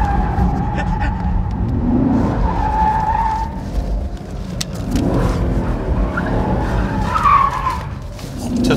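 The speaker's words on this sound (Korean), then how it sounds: "눈 깜짝할 사이에 돌아가는데 슬립이 한 두 번 일어났나요?" Chevrolet Camaro SS with a naturally aspirated 6.2-litre 453-horsepower engine and 10-speed transmission at speed on a race circuit, tires skidding and squealing briefly in two bursts over a steady loud engine roar.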